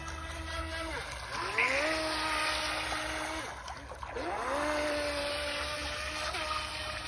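Small HJ808 RC boat motor whining at full throttle on a lake, its pitch climbing in repeated runs with brief drops between, steady and fairly close.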